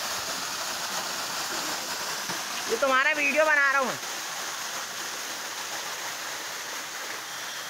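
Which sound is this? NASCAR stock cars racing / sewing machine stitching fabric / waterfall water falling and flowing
waterfall water falling and flowing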